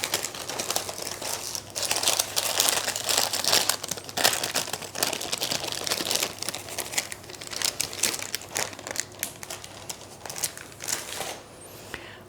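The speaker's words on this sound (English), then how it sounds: "Carefully peel off the paper." Baking paper crinkles and rustles steadily as it is peeled away from a sponge roll cake, a close, continuous papery crackle with small tearing snaps throughout and no talking.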